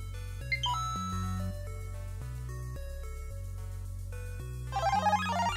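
Nintendo Switch Online NES menu chimes play as a bright electronic jingle of stepped tones, ending in a sparkly flourish, clear and alone with no talk.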